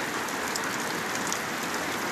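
Heavy rain pouring steadily in Güzelyurt, a dense even hiss of drops with no pauses or voices.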